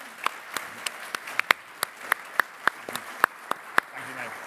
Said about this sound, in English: they both deserve a massive round of applause